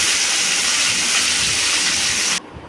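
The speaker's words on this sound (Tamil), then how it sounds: "மீதம் இருக்க சின்ன வெங்காயத்தை போட்டுடலாம்" Small onions hit hot cold-pressed oil already holding tempering seeds and curry leaves for a brinjal kuzhambu, giving a loud, continuous close-up sizzle that cuts off abruptly near the end.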